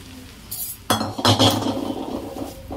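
Thin poha is stirred and tossed in a pan with tempered mustard seeds, cumin and asafoetida for Maharashtrian chivda; a spoon scrapes and clinks against the metal pan in a few close, busy strokes, with no talk.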